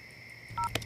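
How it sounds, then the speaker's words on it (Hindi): A telephone number being dialed: a short run of touch-tone beeps, two tones then a sharper one, over a faint steady hum. "तुम चिंटू को फोन लगाओ"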